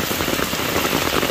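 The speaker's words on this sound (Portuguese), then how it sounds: "Todos nós aqui do sertão amamos uma chuva," Steady, heavy rain falls on surfaces in the Brazilian backcountry, a dense, even hiss of close drops throughout with no pauses.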